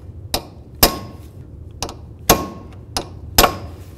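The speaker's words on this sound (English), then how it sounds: "We want to make sure that we peen the nut down into that area." A hammer peens the axle nut on a 1998-2002 Honda Accord front axle, five sharp metallic strikes with ringing tails in an uneven rhythm, close and loud in a garage.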